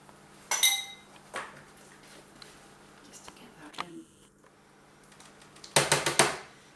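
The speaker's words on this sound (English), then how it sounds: "I'm going to actually use a spatula." A spatula scrapes cake mix into a lined tin, heard as a few quiet scrapes and taps, with bright clinks of utensil on bowl near the start and a cluster of rapid knocks toward the end.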